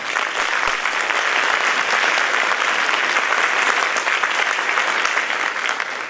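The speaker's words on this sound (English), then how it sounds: "You can give them a round of applause." A school spring concert crowd gives a jazz ensemble a round of applause, continuous dense clapping at steady loudness for several seconds.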